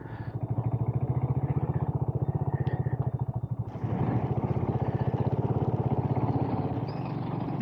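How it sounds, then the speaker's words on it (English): A Highland Green BSA Goldstar single-cylinder motorcycle thumps with a loud, rapid, even exhaust beat close by, then the engine note rises sharply as it pulls away, staying strong to the end. "There goes Lumpy Carbs on his beautiful Highland Green BSA."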